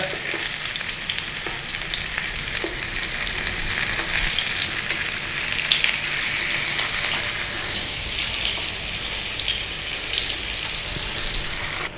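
Black pudding sizzles and crackles steadily in hot oil in a frying pan, a loud, continuous close-up fry with no talking.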